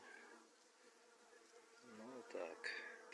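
A steady, low buzz of Buckfast honeybees hums in the background at a hive frame, with a few brief sharper buzzes passing close near the end.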